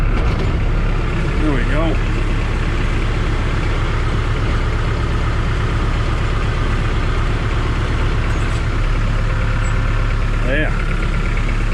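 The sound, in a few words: tractor engine running while laying plastic mulch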